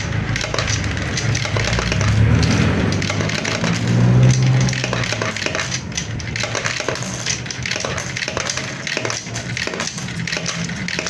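Peso coins fed into a universal coin slot during calibration, a series of metallic drops and clinks over a low mechanical background, with no one talking.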